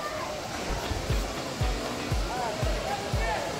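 Sefrou Falls in Morocco roars in a steady broadband rush, with faint voices underneath and low periodic thumps.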